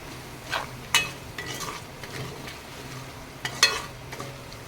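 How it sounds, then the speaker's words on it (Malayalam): A spatula scrapes and stirs through food in a pan in uneven strokes, over a gentle sizzle with a few sharp metallic clinks. "എന്നിട്ട് മുഴുവനായിട്ട് ഒന്ന് ഇളക്കി കൊടുക്കുക"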